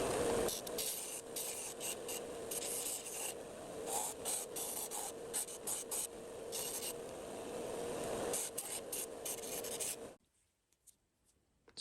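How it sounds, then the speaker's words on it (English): Electric sanding station grinding a wooden truss rod cover for a guitar, a steady close abrasive rasp with shifting pressure that runs for about ten seconds, then cuts off abruptly into near silence. "I'm also going to be using an electric sanding station for this as well"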